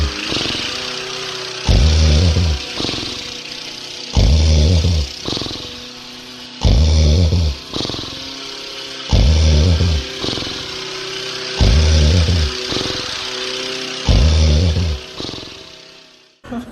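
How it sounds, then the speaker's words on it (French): A steady lawn mower engine drone with a loud, repeating rise and fall roughly every two and a half seconds, like a mower sweeping back and forth, fairly close. "le bruit qui me fait du bien, c'est une tondeuse au loin"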